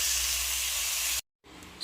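A steak sears in a hot pan with a loud, steady hiss that cuts out briefly, then resumes a little softer.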